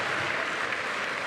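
A crowd at a FIBA 3x3 basketball World Tour event in Vienna applauding a team, a brief steady wash of many hands clapping from a distance, with no talk.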